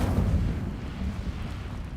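A fire spell in Hogwarts Legacy erupts as a dense, low roaring whoosh with crackling bursts that fades gradually over two seconds, heard alone and close.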